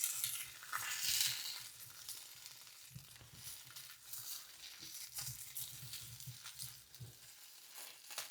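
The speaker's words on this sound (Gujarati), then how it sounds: "કાલ રાતની કઢાઈ તેલવાળી છે ને એમાં પહેલાં બટાકા થોડાક શેકી લઈએ મસ્ત તેલમાં" Potatoes fry in oil in a kadai left over from the previous night, giving a continuous crackling sizzle with scraping stir sounds now and then, close and fairly quiet, with no talking.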